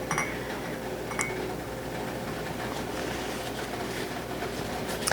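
Glass jam jars of homemade grape jam clink lightly against each other as they are wiped down, a few faint separate taps over a steady background hum.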